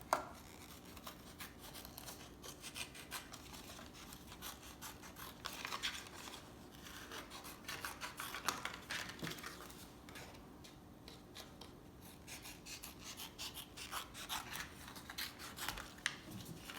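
Scissors snipping through paper while cutting out dinosaur craft pieces, faint close crisp snips and rustling scattered steadily throughout, no voices.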